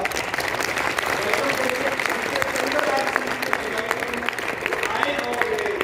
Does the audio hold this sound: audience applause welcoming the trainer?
yes